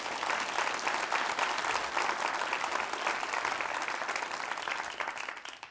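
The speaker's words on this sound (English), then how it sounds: "let's give the mayor another round of applause" A convocation audience gives another round of applause for the mayor, a dense, even wash of clapping that holds steady throughout before tapering at the very end.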